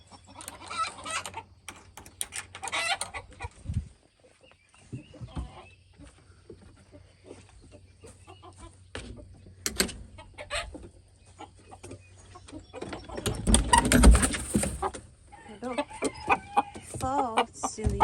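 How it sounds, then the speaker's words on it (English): Chickens being brought home cluck and squawk close by in scattered bursts, rising to a louder flurry toward the end, with faint handling noise around them. "get the chickens out"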